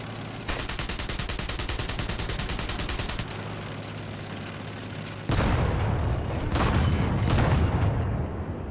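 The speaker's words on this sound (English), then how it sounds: "And do we go small caliber machine gun?" Tank machine gun fire in War Thunder, a rapid sustained burst of evenly spaced shots lasting several seconds, followed after a pause by heavier booming impacts and explosions, loud and close.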